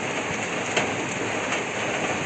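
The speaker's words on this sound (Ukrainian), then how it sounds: "У нас злива, лівень." Heavy rain pours down steadily outdoors during a downpour in Ukraine, a dense continuous hiss of rain on surfaces with occasional louder drips, no voices.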